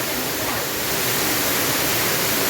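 Rushing water from a waterfall in the Sambalpur region of Odisha pours steadily and loudly as a dense, unbroken broadband roar with no pauses and no voices.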